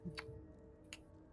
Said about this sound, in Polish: przekręca, jakby zegarek chodził.